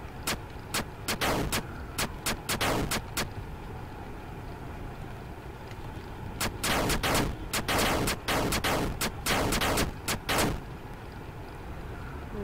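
A barrage of gunfire in a video game, two long strings of sharp, loud single shots spaced unevenly over a steady engine-like rumble, with a pause between the volleys and no voices.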